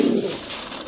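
A large pair of pigeons coos in a short low rolling phrase at the start, close and fairly loud, then quiet hiss.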